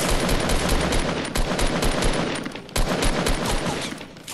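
Rapid automatic gunfire from the Fortnite video game rattles in a loud, continuous stream, with only a brief break partway through, dense and close with no audible talk.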